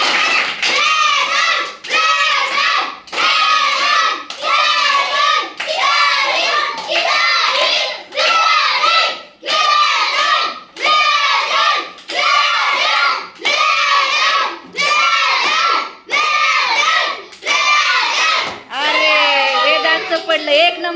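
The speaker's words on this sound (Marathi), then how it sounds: "जोरात टाळ्या वाजवा चला यांच्यासाठी" Children at a school race cheer and clap in a loud, continuous burst of young voices and hands, with short pauses between swells, close and crowded throughout.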